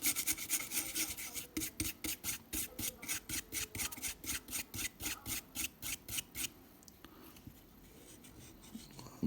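A small beard-trimmer brush scrubs a Napoleon III 5 centime coin in a rapid steady rhythm of short scratchy rasping strokes, close and fairly quiet, slowing into a softer rub near the end.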